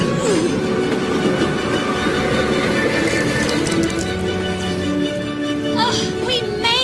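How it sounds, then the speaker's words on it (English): A passing train gives a loud, continuous rumble and rattle of wheels and cars, with voices briefly calling out near the end. "There's the train!"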